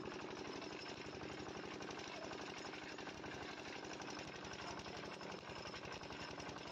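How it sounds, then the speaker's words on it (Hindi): A steady engine drives a sugarcane crusher for making jaggery, a loud continuous mechanical chugging with rapid regular thumping that runs throughout without pause, with no talk over it. "ये हमारा इंजन है कि जो कि कोल्हू को चला रहा है।"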